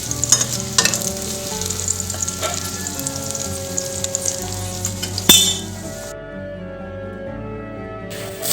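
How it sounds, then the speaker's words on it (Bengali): Garlic and green chili fry in hot oil for a sweet potato leaf dish, giving a loud close sizzle with stirring scrapes and a clink of the utensil, then the sizzle settles to a quieter hiss. "এই রসুনটা একটু ভাজা ভাজা হয়ে যাবে"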